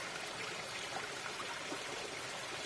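Loud, steady flowing water from a bug video game rushes continuously with a dense, hissing wash, unbroken and with no voices over it.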